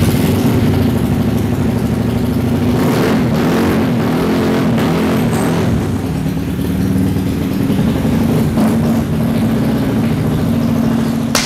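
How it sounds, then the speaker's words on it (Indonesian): A 450-series dirt bike engine warms up, idling loud and close with a steady droning rumble and a few mild swells in revs, no voices over it. "ini udah ready motor seri 450 gua. Kita angetin dulu sebentar."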